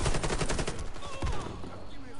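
Rapid FY-47 rifle fire from the video game Warface crackles in a dense automatic burst, loud and close, fading into a trailing echo after about a second and a half.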